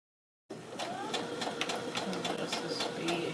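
A Baby Lock Brilliant sewing machine runs steadily after a brief silence, its close, even mechanical whir broken by light rhythmic clicks.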